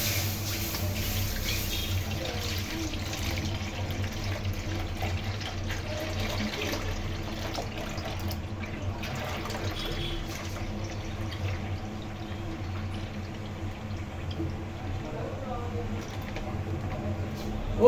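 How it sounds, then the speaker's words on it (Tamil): Milk poured into a pot while making palkova, a steady liquid pour and splash running continuously over a low background hum, with faint talk at times. "இப்போ பாருங்க நான் பாலை ஊத்துறேன் பாருங்க"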